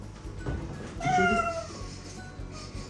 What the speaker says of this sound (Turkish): Bu miyavlama üstüme çok gelmeyin.